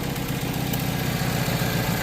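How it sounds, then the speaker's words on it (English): An engine idles with a steady low rumbling exhaust note, close and continuous, no voices. "I love that exhaust."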